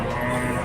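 A bull at a cattle market in Chattiparamba gives a low, sustained moo, close and steady, with a busy background of market noise.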